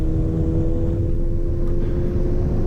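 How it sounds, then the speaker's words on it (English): A VW Golf MK7 on a race track at Mid-Ohio shifting up into fourth gear, a loud steady engine drone with heavy low rumble from inside the car, no talk. "And we're up to 4th gear."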